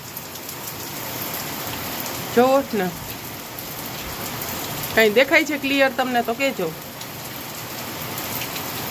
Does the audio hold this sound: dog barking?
no